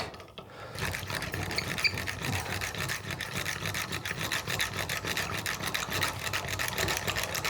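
TikTok kitchen gadget spinning an egg inside to whisk it, a steady fast rattling whir with rapid rubbing pulses that runs without a break, close and fairly loud.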